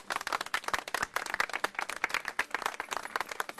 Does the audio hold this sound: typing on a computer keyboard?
no